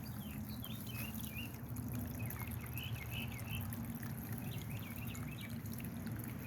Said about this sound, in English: I've got my fountains going.